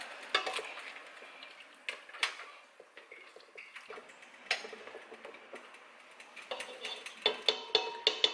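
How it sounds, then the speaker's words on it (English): A potato masher squelches and taps through soft simmered strawberries in a pot, giving irregular wet thuds and clinks at close range with short pauses between strokes. "I'm just going to go in with the ordinary potato masher, and I'm just going to mash the soft fruit down to create a sort of pulp"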